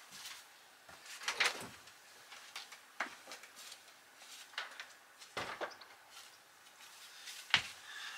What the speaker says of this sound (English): We'll just open up the door for a bit of ventilation.